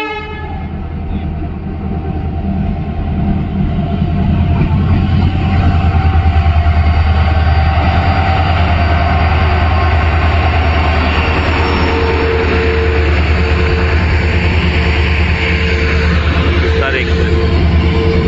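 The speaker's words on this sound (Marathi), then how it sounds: "राज्यराणीचे आगमन आर्वी रेल्वे स्टेशन मध्ये होते." Rajya Rani Express pulls into Arvi railway station on the Konkan Railway, a loud steady rumble of wheels and carriages rolling past close by with a sustained horn blast, constant throughout.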